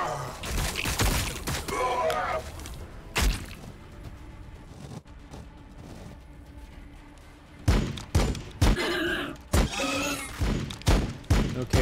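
Gunfire from a Warhammer 40,000: Battlesector battle, with sharp bursts and thuds in clusters, some dense volleys early and again toward the end, over quieter game ambience.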